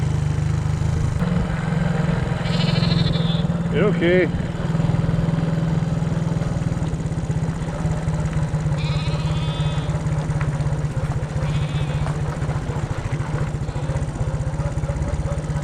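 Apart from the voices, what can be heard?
flock of sheep bleating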